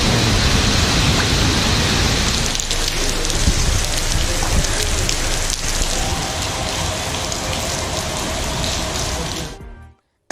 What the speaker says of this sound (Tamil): மதுரையிலும் பல்வேறு பகுதிகளில் இடி மின்னலுடன் கூடிய மிதமான மழை பெய்தது.